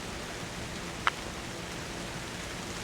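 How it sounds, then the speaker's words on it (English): Heavy rain pours steadily during a strong thunderstorm under a special marine warning, forming an even, dense hiss throughout with one brief sharp tick near the middle. "Now the rain is coming down quite well, as you can see here."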